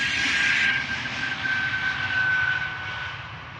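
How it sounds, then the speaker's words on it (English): A jet airliner takes off at Amsterdam Schiphol Airport, roaring steadily with a broad rushing engine noise and a high whine running through it, loud and sustained throughout. "the sound of the airplane taking off from center overpowering the volume that this A220 is producing"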